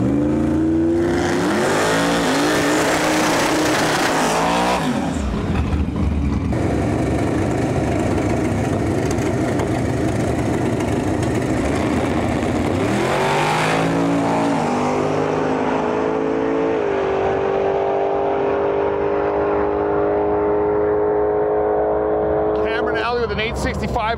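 Drag race cars, an orange Mustang and a 1979 Chevrolet Malibu G-body, rev and launch down the strip at a summer drag racing event, engines roaring loud and then fading into the distance as an announcer talks over them.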